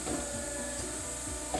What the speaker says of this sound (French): Enfin, le tout est soudé à la machine.